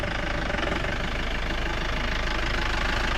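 A vehicle engine labors while driving uphill off-road in the Vagamon hills, a loud, constant rumbling drone with no pauses.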